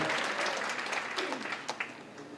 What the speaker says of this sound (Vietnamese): Một lần nữa xin quý vị cho một tràng pháo tay để kính chúc các cha